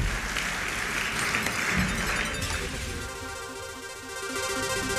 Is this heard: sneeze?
no